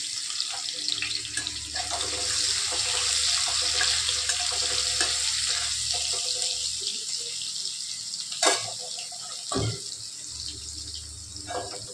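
Garlic with cumin seeds and curry leaves fries in oil in a kadhai, a steady, dense sizzle that runs throughout with a few louder pops and no talk.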